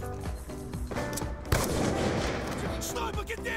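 Gunfire in the Black Ops 2 video game during a one-on-one trickshot match, a few sharp shots with a louder burst midway, heard under casual talk between players.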